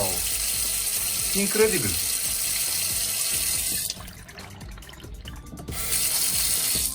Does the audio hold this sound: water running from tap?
yes